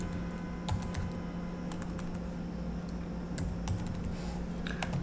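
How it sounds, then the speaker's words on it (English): Keyboard typing while entering a short text label in a design app: quiet, irregular clicks scattered across a few seconds over a steady low hum, with no talking. "We are going to type K2"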